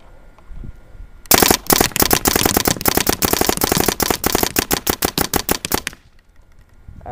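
A Smartparts Ion paintball marker fires semi-auto in a loud, rapid burst of sharp cracking shots, roughly twenty evenly spaced pops lasting about four seconds, close up, with quiet before and after.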